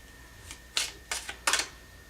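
Tarot cards are pulled from a deck in three or four quick, papery riffles and slides, close and crisp against a faint steady hum.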